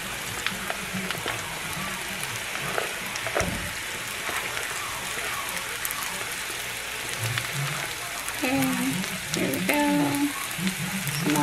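Onions sizzle and crackle as they fry in a pan while cooking veggies for a keto mozzarella meatloaf, a steady close hiss with occasional louder pops, and a few brief voiced sounds near the end.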